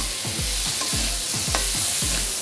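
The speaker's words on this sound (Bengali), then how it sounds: "আমি এবার আটিগুলো বেশ মুচমুচে করে ভেজে নেব।" Jackfruit seeds fry in oil with salt and turmeric, a bright constant sizzle under quick, regular scraping strokes of a spatula stirring them about the pan, close and loud.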